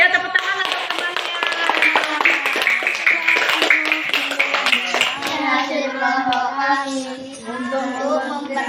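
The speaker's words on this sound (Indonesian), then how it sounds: "ya tepuk tangan untuk temannya" Fourth-grade children in an Indonesian elementary classroom clap rhythmically for a classmate, with sharp, close hand claps in a quick steady beat under their chanting voices.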